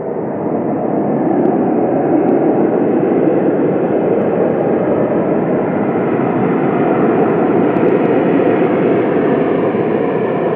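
A Malta Air airliner arriving at Manchester Airport from Paris gives off a steady, broad engine roar that holds at an even, loud level throughout with no voices.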